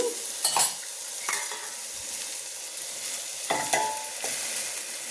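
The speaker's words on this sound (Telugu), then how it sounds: "కొంచెం పసుపు వేసానండి మంచిగా కలిపెట్టి సిమ్లో పెట్టేసి బాగా చేద్దాము" Carrot and raw banana fry with turmeric cooking on low flame, a soft steady sizzle broken by a few scraping stirs of a spoon against the pan, no talking.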